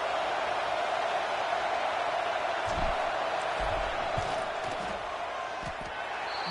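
Steady crowd roar fills a college football stadium, Alabama against South Carolina, as fans make noise during a field goal attempt, with a few faint thumps and claps above the continuous din and no one speaking.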